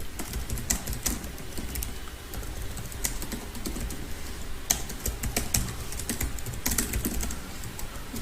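Steady typing on a computer keyboard while text is entered into a file, with rapid close key clicks in uneven bursts and occasional louder strikes, no talking.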